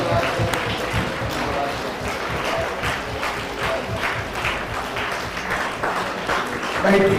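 Worshippers at an annual church retreat clap along, an uneven patter of hands mixed with voices of the gathering, moderately loud and fairly close, rising slightly at the end.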